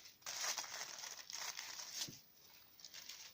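Silk tissue paper rustling and crinkling as it is folded around a gift with a salmon-toned bow, a continuous close, papery crackle with brief swells and soft crisp snaps.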